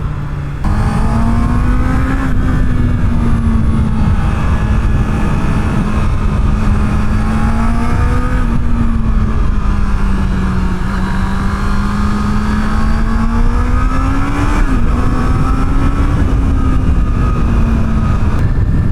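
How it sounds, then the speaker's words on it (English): A high-powered motorcycle built for professional-level riders revs loudly and continuously, its engine pitch rising and falling in long sustained sweeps, close by with no talk. "This is a motorcycle for professional level riders."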